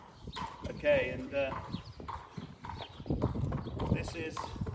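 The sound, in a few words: stallion's hooves clip-clopping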